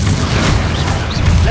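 Bombarda spell blast in Hogwarts Legacy, a loud continuous low boom with rumbling debris, close and dense from start to finish.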